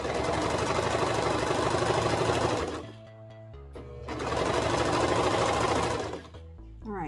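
A sewing machine stitches the shoulder seam of a French terry hoodie in two loud, steady runs of whirring, with a short pause between them and a brief stop at the end.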